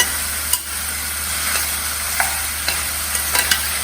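Potato dry curry sizzles in a pan while a spoon stirs and scrapes it, steady frying hiss with several light knocks and scrapes spaced across the moment, close by and with no talking.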